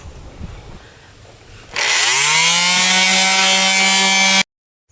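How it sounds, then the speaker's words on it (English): A power sander working a wooden cubby shelf whines up sharply from a quiet room, runs loud and steady for about three seconds, then cuts off abruptly into silence. "now to sand this down and get it nice and good looking"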